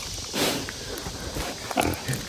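A pig grunts and oinks while wallowing in a muddy barrel pen, snuffling close by with squelching movement and a few short bursts.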